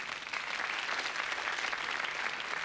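Studio audience applause at the Paul Daniels magic show, a dense, steady wash of many hands clapping at once, loud and sustained without a break.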